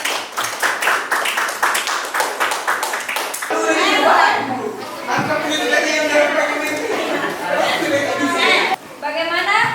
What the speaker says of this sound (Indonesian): Oke, stop. Tepuk tangan dulu untuk pendapat.